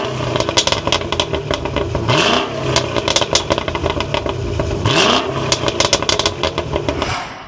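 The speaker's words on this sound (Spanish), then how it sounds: "el sonido de este motor LT4 es alucinante" The LT4 V8 engine of a 2025 Cadillac CT5-V Blackwing revs hard and loud in repeated sharp bursts, with rising sweeps as it builds and crackling pops between blips.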